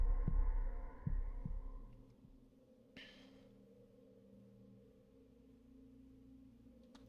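Heavy, low thumps from a hunting ghost's heartbeat in a video game: three or four deep beats early on, then a faint throbbing hum with a brief burst of noise midway.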